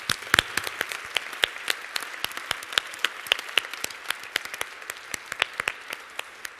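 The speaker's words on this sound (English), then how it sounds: "Let's just give them another round of applause." Scattered audience clapping at a spelling bee, a crisp sparse patter of individual hands in a hall, fairly near and clear, continuing evenly without talk.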